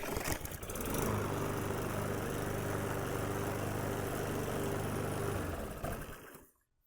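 Troy-Bilt TB110 lawn mower engine, fresh after a carburetor replacement, catches on the first pull and runs at a steady, loud drone for several seconds before cutting off abruptly.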